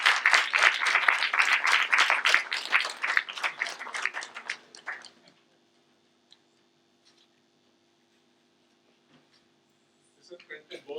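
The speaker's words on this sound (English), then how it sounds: "Let us give a big round of applause to this special moment." Applause from an audience at a World Environment Day 2022 report release, a dense burst of clapping for about five seconds that then fades into near silence, with a little clapping returning at the end.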